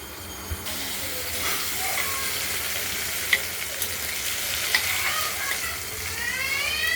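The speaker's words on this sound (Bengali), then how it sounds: "আলুগুলোকে আমরা ভেজে নিচ্ছি, লাল করে ভেজে দেখতে থাকুন।" Potatoes fry steadily in hot oil in a pan for a prawn and potato curry, giving a continuous close sizzle with a few sharp clicks and pops from stirring, and no one speaking.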